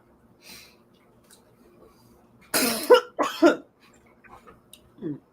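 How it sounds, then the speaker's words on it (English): A person coughs in two close, harsh bursts near the microphone, followed by a softer throat-clearing sound, with quiet breathing in between. "I'm trying to ward off a coughing fit."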